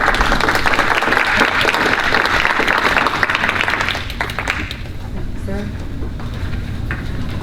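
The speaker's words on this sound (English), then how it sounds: "You can give her a round of applause." Audience at a public meeting at Morgan State University applauds a director, dense clapping for about four seconds that then fades as a voice begins speaking.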